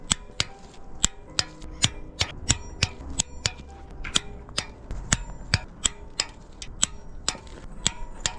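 A torque wrench rechecks the cylinder head bolts on a coupe engine during a teardown, giving a steady series of sharp metallic clicks, close and fairly quiet, repeating about twice a second.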